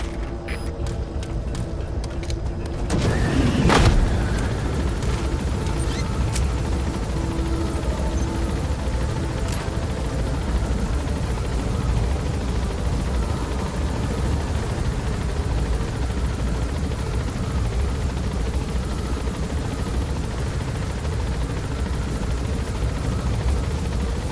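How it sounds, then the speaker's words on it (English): A helicopter in the video game Metal Gear Solid V: The Phantom Pain whirs steadily close by, its rotor drone continuous throughout, with a brief swelling whoosh and rumble early on before settling into an even mechanical hum. "Get off the helicopter."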